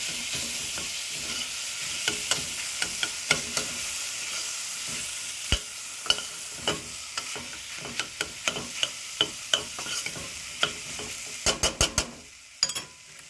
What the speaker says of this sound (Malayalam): ഇതിലോട്ട് ഒരു ടൊമാറ്റോ ചെറുതായിട്ട് അരിഞ്ഞത് അതുകൊണ്ട് ഇട്ടു